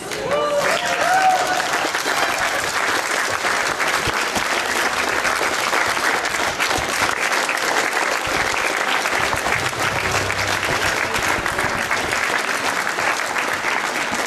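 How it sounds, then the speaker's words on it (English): A standing audience at an event in Bathurst, New Brunswick breaks into loud, sustained applause, dense clapping running steadily throughout with a brief voice at the very start. "Can I please ask you to stand and applaud for Ms. Jana White and Kristen Marr"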